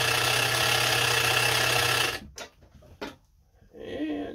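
A Kenmore 158.17740 sewing machine runs a test stitch, its steady loud motor whir and rapid needle rattle filling the first two seconds, then stopping, followed by a few quiet clicks and handling sounds.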